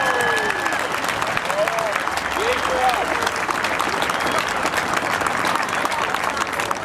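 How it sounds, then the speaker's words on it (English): A rally crowd at a Tea Party gathering claps steadily throughout, with scattered cheers and whistles rising over the continuous applause. "give yourselves a round of applause for being out here today"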